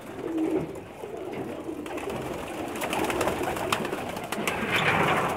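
Several pigeons cooing softly over steady background hiss, with faint repeated calls scattered across the moment and no speech.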